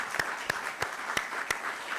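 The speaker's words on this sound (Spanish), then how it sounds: "la vamos a recibir con un fuerte aplauso a la profesora Mila Vázquez" Sparse, spaced claps ring out in a lecture hall as an audience welcomes a law professor at a talk on prison sentencing benefits. Five or six distinct, moderately quiet hand claps sit over low background noise.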